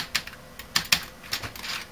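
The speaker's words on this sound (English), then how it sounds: "when you press down on a key, you get that snap" Keys pressed on a membrane keyboard with rubber domes underneath, giving a few separate soft clacks and snaps at an uneven pace, close up with no talking.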